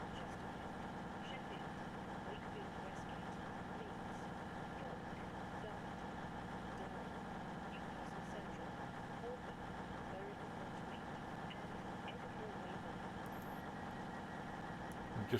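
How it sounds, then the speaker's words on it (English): Diesel train engines idling at a station platform on the Riviera Line in Train Sim World 6, a steady low rumbling drone throughout with faint platform announcements in the background. "just hear the announcements over the train engines"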